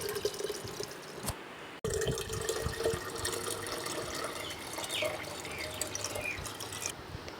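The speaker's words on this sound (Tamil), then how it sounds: "இதில் பார்த்தீங்கன்னா இப்போ 1 லிட்டர் நான் தண்ணி ஊற்றுறேன்." About one litre of water is poured into a bottle to make onion-peel fertilizer. It comes as a steady, close splashing pour that begins with an abrupt clunk and carries on with no talking.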